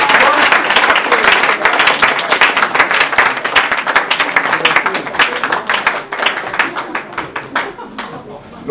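A church congregation at an evangelical French-speaking service applauds together, a loud, dense run of many hands clapping that carries steadily and then gradually thins out toward the end.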